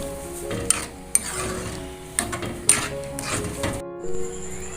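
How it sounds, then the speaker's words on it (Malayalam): Raw mango mixture being stirred in a pan, a spoon scraping and knocking against the metal in a series of clinks and taps with a soft sizzle underneath, close and moderately quiet. "ഇനി ഇതൊന്ന് ഇളക്കിയെടുക്കാം. നന്നായിട്ടൊന്ന് ഇളക്കിയെടുക്കുക."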